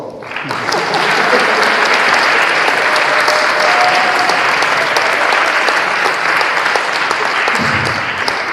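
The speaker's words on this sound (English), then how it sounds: "Applause." Loud, continuous applause fills a hall as speaker Rick Alfeck is introduced at a World Peace Earth Day celebration, a dense crowd of clapping sustained for about eight seconds.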